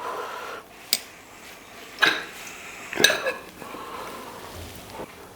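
A ladle knocks against a pot while desi ghee is added, giving three or four sharp metallic clinks spaced about a second apart over quiet kitchen background.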